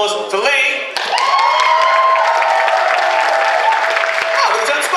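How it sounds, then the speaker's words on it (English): An audience at the RahCon 2015 cosplay competition applauds and cheers for a contestant named Lee. After a brief lull, a loud, steady crowd clapping swells, with cheering and shouts mixed in, and continues without a break. "ladies and gentlemen, round of applause for Lee"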